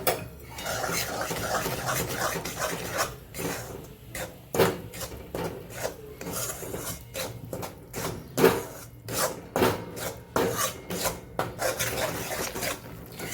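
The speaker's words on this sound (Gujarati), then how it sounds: "હવે આપણે એમાં લોટ ઉમેરી દઈશું ને આપણે એને શેકી લેવાનું છે" Flour roasts in ghee for a Navratri sheera as a spoon scrapes and rasps steadily around the pan, a dry rhythmic scratching with sharp clinks, fairly close and moderately loud.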